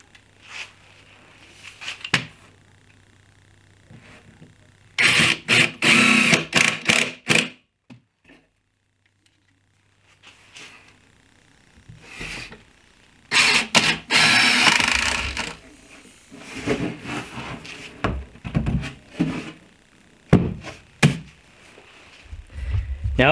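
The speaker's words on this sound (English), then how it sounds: "Now what I'm gonna do is I'm gonna drive these screws in, these wood screws." Wood screws driven into the corners of a mitered wooden frame with a power driver, in two loud whirring bursts separated by quiet pauses, plus softer handling noises.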